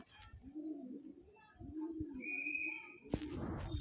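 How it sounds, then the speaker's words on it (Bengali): Soft, low coos from a female pigeon repeat in a warbling rhythm, close by, with a brief sharper rustle near the end. "এই হচ্ছে মাদি পায়রা"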